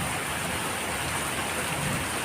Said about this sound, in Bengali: এই যে দেখো খুব বৃষ্টি হচ্ছে, একদম জমিয়ে বৃষ্টি হচ্ছে,